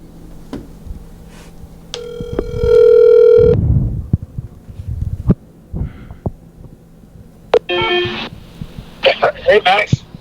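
A phone call is dialed and rings out, with a tone sequence, a sustained ring, then muffled thumps and further electronic tones on the line.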